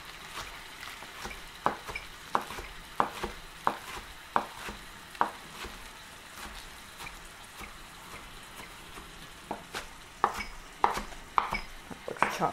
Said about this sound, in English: Now I'm going to chop my spinach. I'm using baby spinach.